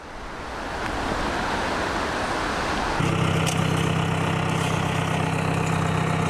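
A tractor pulling a bean planter across a field gives a steady engine rumble that builds up at the start, then settles into a louder, even drone with a low hum partway through.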